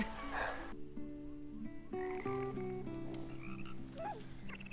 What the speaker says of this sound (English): That frog doesn't have a chance.